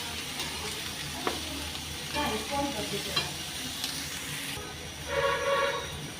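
Onions frying in a small amount of oil in a pan for a Bhojpuri paneer do pyaza, a steady close sizzle with occasional stirring scrapes and clinks, no voices.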